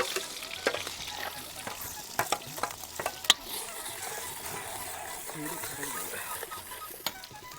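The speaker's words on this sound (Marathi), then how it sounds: "तेल टपल्यावर मसाला टाकूया आता." Ground masala spice sizzling and frying in hot oil in a pan for a village-style shev bhaji, a steady broadband crackle with sporadic sharper pops and stirring scrapes, fairly close and moderately loud.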